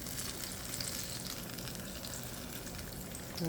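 Strawberry fritters fry in a shallow layer of hot oil, giving a steady, dense sizzle and crackle that stays close and even throughout with no talking.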